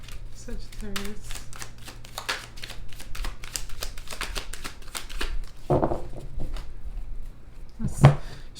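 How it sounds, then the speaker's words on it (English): Rapid papery riffling and flicking of tarot cards being shuffled, continuous and close, with a few soft knocks and a louder tap near the end. "Let's shuffle a couple more times since no cards are falling out"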